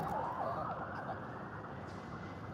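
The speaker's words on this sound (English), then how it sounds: "There's a bloody siren going back there." A fire truck siren wails through a Melbourne street, its rising and falling tone distant and faint over a steady traffic hum.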